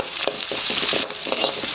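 Shallots frying in a pan for prawn masala, a close steady sizzle broken by a few soft rhythmic stirring scrapes.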